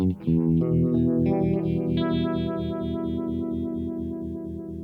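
Electric guitar played through an FX Maniac univibe pedal, with sustained strummed chords pulsing in a steady rhythmic throb, loud and up close with a swirling, slightly distorted tone.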